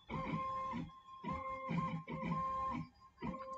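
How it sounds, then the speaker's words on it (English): A MillRight CNC machine runs a G-code program, tracing the outline of a finger tenon piece; close, steady whirring in several sustained bursts separated by brief pauses, with a constant high whine throughout. "Now the machine is following the outline of the first finger tenon piece that was loaded with that program."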